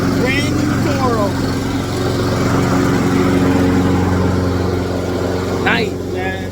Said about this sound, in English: I like to hear the sound of a brand new lawnmower.